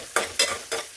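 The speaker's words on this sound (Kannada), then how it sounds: "ಸ್ವಲ್ಪ ಇದನ್ನು ಫ್ರೈ ಮಾಡಿಕೊಂಡು" Rice frying in a pan for fried rice, with four quick scraping stir strokes in a steady rhythm over a low sizzle, close and brief.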